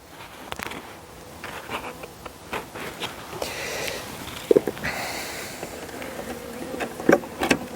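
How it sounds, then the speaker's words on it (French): Honeybees from a natural swarm being hived buzz around nearby, a faint, wavering hum broken by sharp clicks and knocks of handling, with brief louder passes of bees close to the microphone. "Arrête, tu vas exciter les abeilles."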